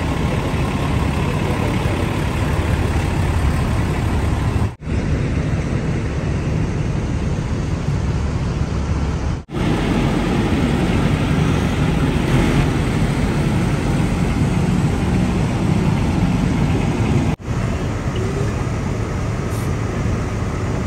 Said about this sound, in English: All those fire engines here.